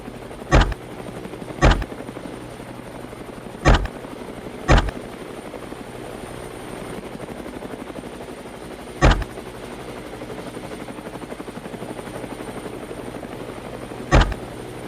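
A helicopter flies low over a forest during a feral hog hunt, its steady rotor drone continuous throughout, broken by several sharp gunshot-like cracks spaced irregularly across the span.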